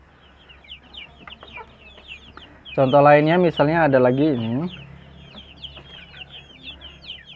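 Free-range village chickens, some sick with worms, cluck and chirp at low level throughout while someone speaks loudly over them for a couple of seconds in the middle.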